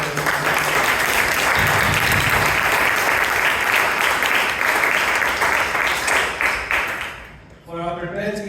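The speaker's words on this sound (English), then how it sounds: "can we have a round of applause" Audience at a Toastmasters club meeting breaking into sustained applause, dense clapping from a roomful of people that fades out near the end before a voice begins speaking.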